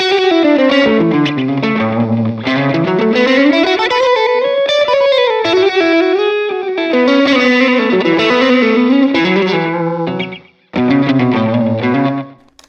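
An overdriven electric guitar plays gliding, bending southern-country-style melodic lines with a gritty, distorted tone from an overdrive pedal, loud and continuous with one brief break near the end.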